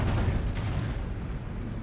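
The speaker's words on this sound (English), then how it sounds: "Friendly Predator missile inbound." Predator missile explosion in Call of Duty MW3, heard as a dense, rumbling low boom that stays loud and fills the whole short stretch before slowly thinning out.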